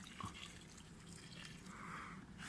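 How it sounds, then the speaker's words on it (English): Water poured onto seed drills in allotment soil, a faint, soft trickle and splash running steadily outdoors, quiet and close with no talking. "I'm now watering the drills"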